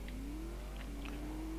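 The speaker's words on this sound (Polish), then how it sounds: "Tym razem troszeczkę szybszy samochód." A faster car in The Saboteur video game drives along, its steady engine drone rising slightly in pitch over a short stretch, with no talk.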